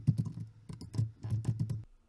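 Typing on a computer keyboard while entering Python code in ArcGIS Pro: a close, quick burst of around a dozen key clicks in an uneven rhythm, ending in a short pause.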